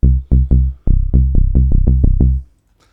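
Deep synthesizer bass notes recreating the bass of a song, a few separate plucks followed by a quicker run of repeated tones, loud and upfront, then silence.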